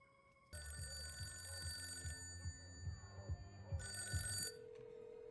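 A telephone bell rings in two bursts, one early and one later, with faint movement and murmur beneath it, a scene from the film The Conjuring 3: The Devil Made Me Do It.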